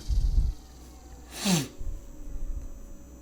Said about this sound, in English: a dropping pyramid, which not only has a sound associated with it that the user hears